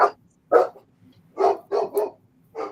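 Dogs barking at home, six sharp close barks coming singly and in a quick pair, with silence between them.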